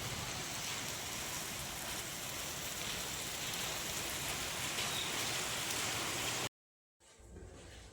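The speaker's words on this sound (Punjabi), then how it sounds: "ਪੂਰੇ ਜ਼ੋਰ ਦਾ ਮੀਂਹ ਹੈ" Heavy rain pours down steadily as a dense, even hiss, loud and continuous, until it cuts out abruptly near the end; fainter rain resumes briefly afterward.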